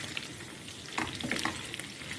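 Chicken frying in a pan for biryani, a steady close sizzle with a few stirring scrapes and clatters partway through.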